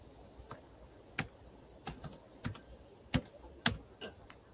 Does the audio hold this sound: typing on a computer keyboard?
yes